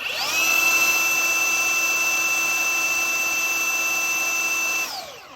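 A Bauer 3 x 18 inch cordless belt sander runs free, not touching wood, giving a steady, loud, even whine for about four seconds before it winds down.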